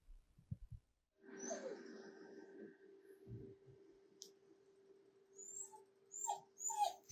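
Dogs whimper softly in playback of animal patients, faint whines and clicks after a brief pause, quiet and somewhat distant.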